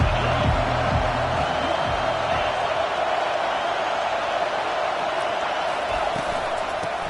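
A football stadium crowd roars in a sustained loud wash of noise through the whole stretch, with scattered whoops and a commentator's voice faintly mixed underneath.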